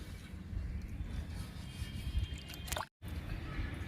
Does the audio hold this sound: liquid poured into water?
yes